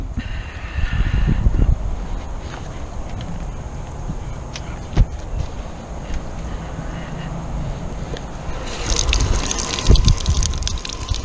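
Tap water runs and splashes while a freshly caught tuna is rinsed clean, a steady gushing stream with intermittent sharper splashes and a heavier surge near the end, heard close with no talk.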